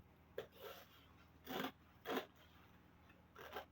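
Scissors cutting fabric for a shirt collar, a few quiet short snips and rasping cuts spaced irregularly, close but faint.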